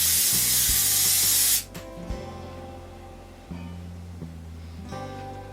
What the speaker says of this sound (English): hold your hair out and just spray it while it is out